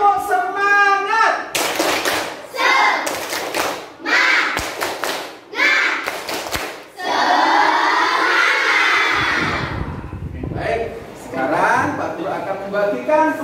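Classroom children performing a rhythmic spirit clapping chant, loud group claps and thumps in a patterned beat mixed with shouting and chanting voices, ending in a burst of cheering.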